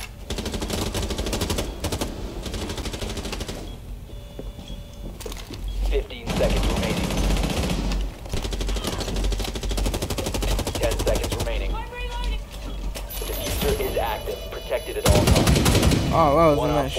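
Gunfire in the Rainbow Six Siege video game: rapid automatic bursts and sharp single shots recurring throughout, loud and close, with brief pauses and a louder burst near the end, while players talk over it.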